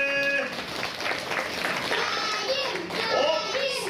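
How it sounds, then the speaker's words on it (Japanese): Audience applause at a Tokyo DisneySea show, a steady wash of clapping lasting several seconds, with children's voices and a performer's voice rising over it near the end. "みんな彼に拍手を送ってくれ。"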